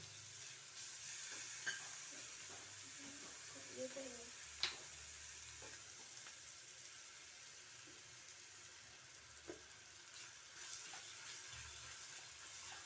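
Crushed garlic and ginger fry with onions in a pan, giving a soft, continuous sizzle with a few faint clinks from stirring.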